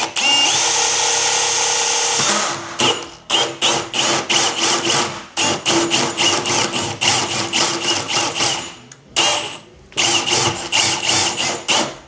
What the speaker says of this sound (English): take your 22 and you want to drill through the side